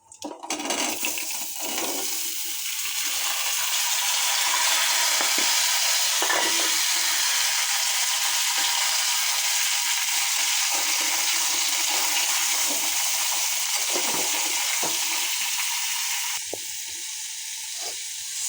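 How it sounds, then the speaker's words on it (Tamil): Boiled chickpea sundal is tipped into a hot pan of tempering, setting off a sharp, loud hiss that settles into a long, steady sizzle lasting nearly twenty seconds. No one speaks. "தாளிச்சக்கப்புறம் வேக வச்ச சுண்டலை உள்ளே போட்டுடணும்."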